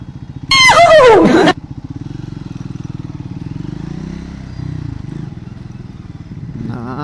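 An off-road motorcycle rides up onto the Goraguntepalya bridge at night, its engine running steadily and loud throughout, with a brief sharp high-pitched burst near the start and faint clatter.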